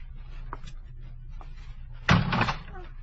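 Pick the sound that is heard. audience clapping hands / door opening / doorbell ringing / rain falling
door opening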